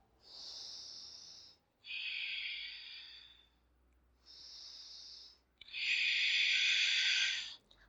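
Audible breaths during a vinyasa yoga flow, heard as four close, airy pushes of breath alternating with short pauses. The later breaths are longer and louder.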